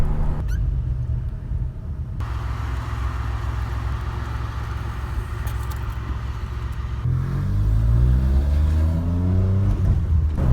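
A 1981 DeLorean DMC-12 engine drones steadily at 4,200 rpm in fifth gear with road rumble, the pitch shifting slightly partway through; no one speaks.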